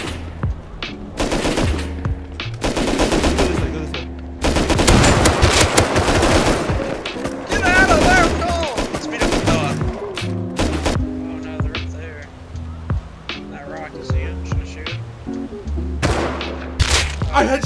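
Loud bursts of automatic and single-shot gunfire from the survival game Rust crack in rapid volleys, broken by short pauses, with players shouting excitedly over the shooting.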